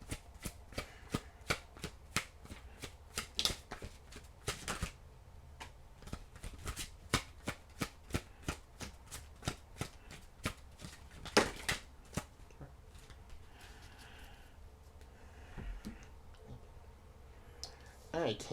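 A deck of tarot cards is shuffled in repeated crisp riffles and clacks, sharp bursts in irregular runs and close to the microphone, with a pause and some handling near the end.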